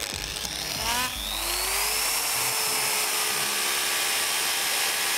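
A saw cutting through a block of ice for an ice sculpture makes a loud, steady grinding whine that holds for several seconds, close and continuous with no talk over it.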